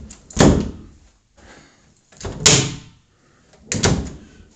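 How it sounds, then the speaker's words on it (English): Closet door sliding shut in a bedroom, three separate loud closing thuds with rolling noise, well spaced and close by, with no talk. "Closet door closes."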